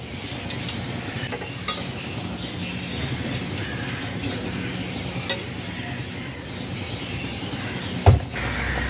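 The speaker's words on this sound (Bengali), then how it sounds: "ঝোল ফুটে উঠেছে। ভেজে রাখা ঢেঁড়স দিয়ে দেব।" Curry broth bubbles and sizzles steadily as previously fried okra is added to the pot. A soft stirring scrape and a brief clatter of utensils can be heard near the end.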